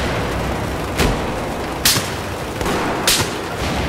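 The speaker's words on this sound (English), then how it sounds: "these guys are using F57s with silencers" Silenced FN Five-seven pistol fire in a video game, heard as a few sharp, evenly spaced shots against a steady noisy backdrop, fairly loud and without any talk.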